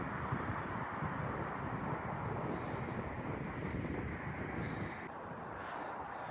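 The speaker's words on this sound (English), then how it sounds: "it's very windy at the top here" Strong wind at the top of a hill buffets the microphone in a steady roaring rush, loud and continuous, easing slightly near the end.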